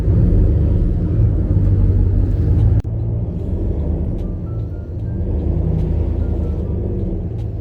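A car pulls slowly into a house garage, its low engine rumble steady and close, with a brief sharp break partway through and a few faint clicks over the drone.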